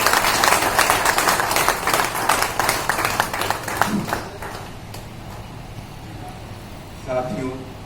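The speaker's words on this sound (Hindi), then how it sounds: "जोरदार भाई ताली से ताली बजाया होगा।" Audience at a welfare association meeting in Hazaribagh gives a burst of applause, loud at first then tapering off within a few seconds, followed by a brief voice.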